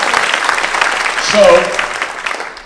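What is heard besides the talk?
audience applause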